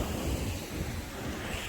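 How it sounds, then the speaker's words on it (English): Sea waves wash against a river-rock beach near Málaga in a continuous broad rush, close and steady with heavy wind buffeting the microphone; no voices. "the waves push it back up onto the beach"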